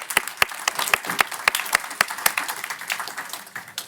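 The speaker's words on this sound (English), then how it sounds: "Give him a round of applause." Audience applause at a live financial-services conference on AI innovation, a dense burst of many hands clapping close by that tapers slightly toward the end.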